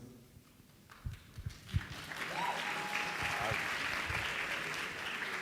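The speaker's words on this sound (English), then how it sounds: "Claps, please." An audience at a council general assembly breaks into applause, starting with a few scattered claps that swell into sustained, fairly distant clapping. A brief tonal sound is heard in the middle of it.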